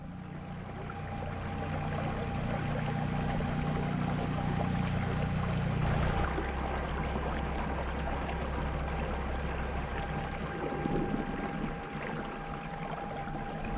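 A fishing boat's motor runs on a lake as a steady low rumbling drone. It holds even throughout, shifts pitch slightly midway, and has a soft watery wash and hiss over it, with no talking.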